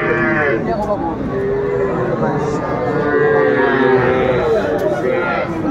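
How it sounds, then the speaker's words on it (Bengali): A bull calf at a cattle market in Dhaka lets out a loud, drawn-out moo close by, sustained for several seconds over background crowd chatter and voices. "ষাঁড় বাচ্চা"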